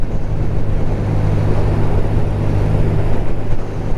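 A BMW R12 nineT motorcycle without a fairing, heard while riding: a steady low engine drone with a humming undertone, buried in constant loud wind rush across the microphone.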